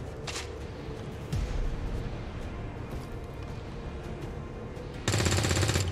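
Gunfire in the XCOM 2: War of the Chosen video game: a rattling automatic burst near the start and a loud sustained volley at the end over a dense, noisy game backdrop.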